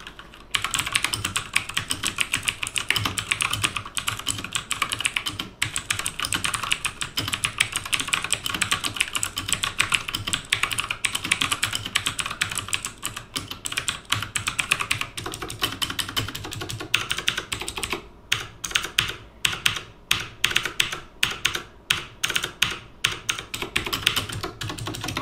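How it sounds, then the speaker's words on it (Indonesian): Continuous fast typing on an Aukey KM-G6 mechanical keyboard with clicky tactile Otemu Blue switches, a dense stream of sharp close clicks and clacks with brief pauses, no voices. "langsung aja kita dengerin suara ketikannya bagaimana cuy"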